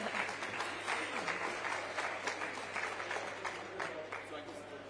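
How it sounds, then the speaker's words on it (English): A crowd at the U.S. Center during COP27 Finance Day gives a sustained round of applause, a continuous, moderately loud wash of clapping that holds steady from start to finish. "Another round of applause."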